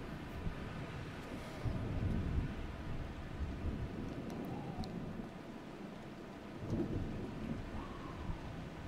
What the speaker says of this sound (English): So we may have to hold up here until the rain goes away.